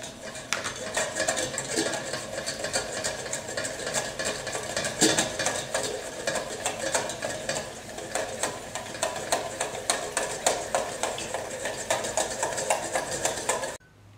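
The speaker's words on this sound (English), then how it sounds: "it just takes whisking until they reach that consistency" Egg yolk mixture for hollandaise sauce whisked steadily in a bowl, a fast continuous metallic rattling and clicking of the whisk at close range, keeping an even rhythm until it stops abruptly near the end.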